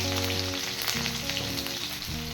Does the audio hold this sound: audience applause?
no